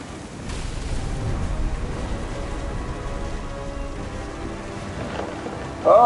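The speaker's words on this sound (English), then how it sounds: "The thunder sounded much too close and full of angry power." Thunder and rain in the video game What Remains of Edith Finch: steady rainfall with low rolling thunder rumbles, a sharper burst near the end, no talking.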